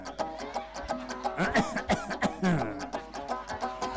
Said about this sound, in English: Can you cough? 3 times only.